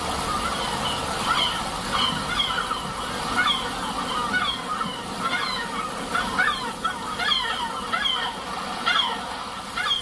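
Birds from around the world gather and land on a stream, a flock of goose-like fowl honking and calling in repeated overlapping bursts over a steady rushing background.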